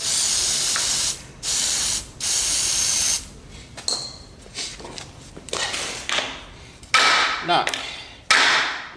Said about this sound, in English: Spray some more.